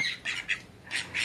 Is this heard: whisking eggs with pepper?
no